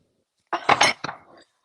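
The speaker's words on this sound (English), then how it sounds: "I got a new Mr. Rogers mug" A new ceramic mug is handled, giving a brief cluster of close clinks and knocks, a few sharp contacts within about a second, alone with no talking.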